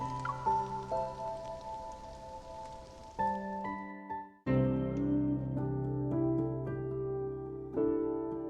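Steady rain patters softly throughout a scene in the video game Love and Deepspace, sitting beneath sustained musical chords that change a few times.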